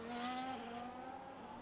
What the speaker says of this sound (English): We love hearing the engine just revving in 8th.